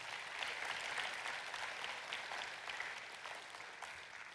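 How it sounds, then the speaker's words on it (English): An audience gives a sustained round of applause at a church service, steady and dense clapping filling the room for several seconds without talk. "Could we give her a round of applause for doing that?"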